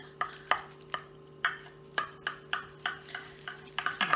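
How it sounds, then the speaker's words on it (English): A utensil cutting down through a baked lasagna-style dish and scooping it out, a series of scraping strikes against the pan at an uneven pace, close and fairly quiet, with no voices. "Cut it right on down and scoop that bad boy out."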